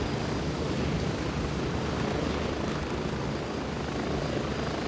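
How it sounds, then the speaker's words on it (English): Helicopter in the military shooter game Gray Zone Warfare, a loud, steady rotor drone with a constant whine holding at the same close level throughout, no voices. "All I've got is freaking helicopter noises in my ears."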